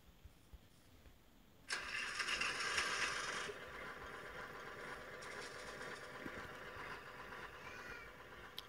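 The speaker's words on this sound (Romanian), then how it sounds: "Nu toarce, mă, așa face tractorul." A tractor engine in the Minecraft video game starts with a sudden burst, roars loudly for a couple of seconds, then drops to a steady, quieter running hum.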